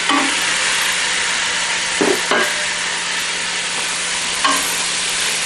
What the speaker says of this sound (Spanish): En este punto levantamos el fuego y le agregamos la carne